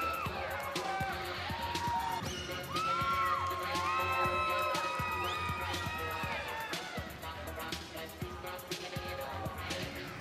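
A bodybuilding contest crowd cheers and whoops loudly, many overlapping shouts and calls rising and falling throughout, with voices yelling across the hall.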